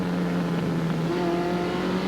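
Steady car engine drone heard from inside a vehicle on a race course, with a shifting tone as it changes gears, loud and continuous throughout.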